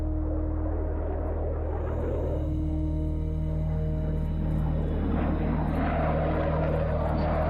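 A U-2 spy plane in flight gives a loud, continuous engine roar and drone with a steady low hum and a slowly shifting tone, heard alone without voices.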